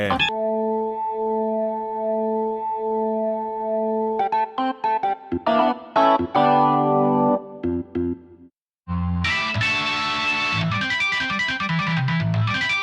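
A sustained, gritty rock organ chord from a Roland Fantom X8 workstation rings out, then breaks into choppy stabbed chords and a fuller distorted passage after a brief pause.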